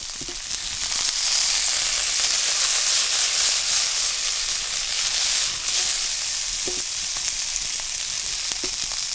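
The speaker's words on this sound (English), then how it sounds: "We'll let the sausage start to crisp up a little bit here, and once that starts to, the meat inside of the casing starts to puff up a little bit" Sausage sizzling in a carbon steel pan over a campfire, a loud, steady frying hiss with small crackles and pops throughout, close up and with no talking.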